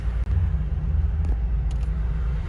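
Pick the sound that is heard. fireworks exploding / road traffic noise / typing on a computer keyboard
road traffic noise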